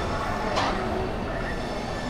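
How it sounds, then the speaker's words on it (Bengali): A train arriving at a station rumbles steadily close by, with a short metallic burst midway through the low, continuous roar. "ট্রেন এখন চলে এসছে"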